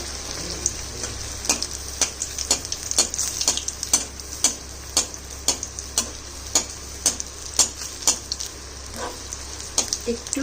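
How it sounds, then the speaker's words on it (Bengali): Batter pieces fry one at a time in hot oil, giving sharp, fairly regular pops and crackles over a faint background sizzle. "কিন্তু আমি একটা একটা করেই ভাজছি"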